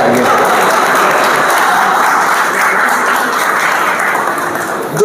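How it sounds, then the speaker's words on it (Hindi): Loud, sustained applause from an audience at a humour and satire gathering, dense and even clapping filling the whole stretch without pause. "एक मरतबा जोरदार तालियां"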